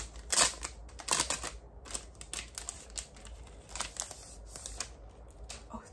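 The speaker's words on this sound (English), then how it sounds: "I'm gonna open up this paper now" Crisp rustling and crinkling of paper being unwrapped from a Kindle Paperwhite, with several sharp crackly bursts close to the microphone and quieter handling noises between them.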